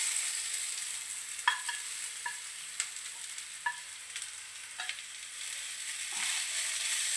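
Spinach stir-fry with grated coconut being stirred in a pan over a steady soft sizzle, with a few distinct scrapes and taps of the spoon against the pan spaced every second or so.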